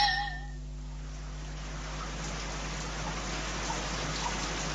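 Rain pattering on wet cobblestone street, a steady soft hiss of drops throughout, heard alone after a brief tonal sound fades at the start.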